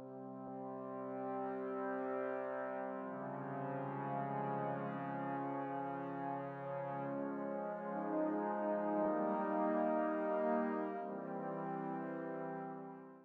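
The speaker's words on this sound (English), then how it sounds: "The trombones are excellently composed, as each of the three lines are given care to how they're composed with each other." Three soloed trombone lines from the Hades video game soundtrack play sustained, layered brass harmonies, smooth and steady, moving between chords at a moderate level with no voices.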